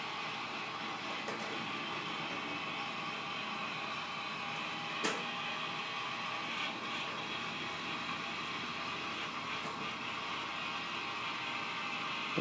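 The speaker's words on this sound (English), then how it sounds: "The motor itself is the TV antenna, old TV antenna rotators from Radio Shack." A turntable driven by an old Radio Shack TV antenna rotator motor turns with a steady, mechanical whirring drone, broken by a few faint clicks, and no one speaks.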